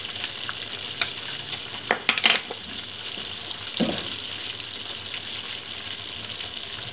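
Peanut butter halwa roasting in a pan, a steady soft sizzle with a few sharp scrapes and clinks of the spoon as it is stirred, close and alone without talking.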